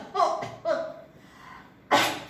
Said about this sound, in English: Now all of you all know how to cough and sneeze into your elbow.